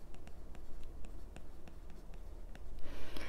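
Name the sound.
writing out position vector formula during math lecture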